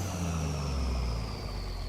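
A stretched Kenworth KW900 truck in American Truck Simulator runs with a steady, droning engine and modified exhaust note, a continuous low rumble with a faint high whine, no talking.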